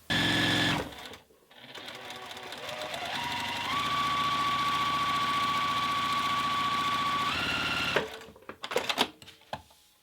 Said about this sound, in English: I'm going to stitch this down with a 1/4 inch seam allowance